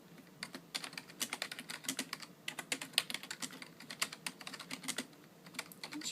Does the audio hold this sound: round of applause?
no